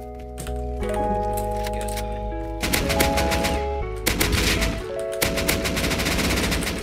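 AK assault rifle fire in the survival game Rust: loud, rapid automatic bursts start partway through and repeat in clusters, over a steady musical drone.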